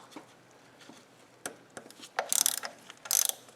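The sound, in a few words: ratchet removing 10mm bolts from BMW thermostat cover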